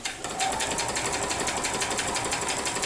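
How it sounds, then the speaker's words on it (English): Sewing machine stitching binding onto the edge of a quilt, a steady close rapid mechanical rattle running without pause. "I'm going to sew to about a 1/4 inch from the edge"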